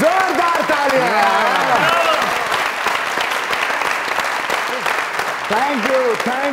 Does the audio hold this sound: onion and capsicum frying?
no